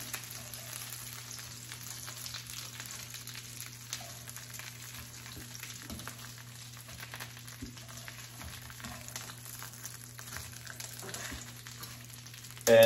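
Chicken cutlets fry in a pan with a faint, steady sizzle over a low background hum, with a brief louder bump at the very end.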